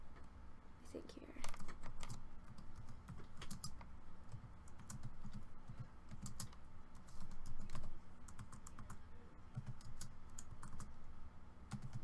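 Quiet, close keyboard typing with irregular clicks and bursts of keystrokes, continuing throughout with faint background murmur.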